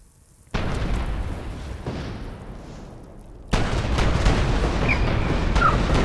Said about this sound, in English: I'm being shot down by turrets